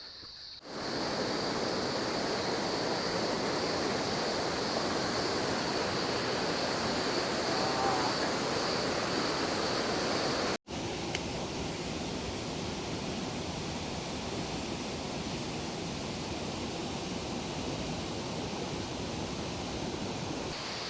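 Eurobin Falls at Mount Buffalo, swollen after heavy rain, gives a loud, steady broadband roar of rushing water that continues unbroken, with a brief cut partway through and no voices.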